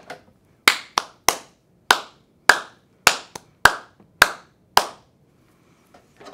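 Hands clap a rhythm pattern in a second-grade music lesson, about ten sharp, close claps in short, uneven groups with brief pauses between them, then quiet.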